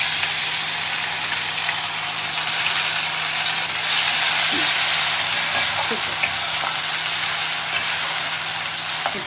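Onion paste frying in a pan for doi katla, a Bengali yogurt fish curry, makes a loud, steady sizzle close by, broken only by faint stirring scrapes.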